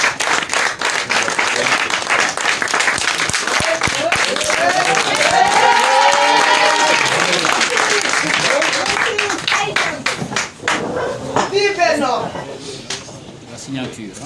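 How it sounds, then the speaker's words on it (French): An indoor crowd applauds by acclamation for newly named president Birane Ngom at a Dieuppeul-Derklé town hall, sustained loud clapping mixed with cheers and voices that gradually thins out toward the end. "de vous lever et de tous, par acclamation, acclamer le président Birane Ngom ici présent"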